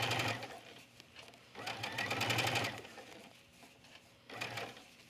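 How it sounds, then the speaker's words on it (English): A sewing machine stitches lace onto fabric in short bursts of rapid mechanical chattering, close up, with quiet pauses between runs of stitching and no talk. "I'm stitching, this is the wrong side of the fabric."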